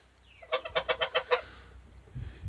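Chickens in a farm barn cluck in a quick run of about seven evenly spaced, fairly loud calls, followed by quieter low rustling and background barn noise.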